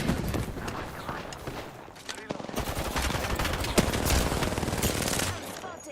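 Gunfire in a video game: dense, rapid bursts like machine-gun fire sustained for several seconds at close range, with scattered footstep-like taps and a voice faintly audible underneath.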